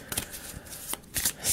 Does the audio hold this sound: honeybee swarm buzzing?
no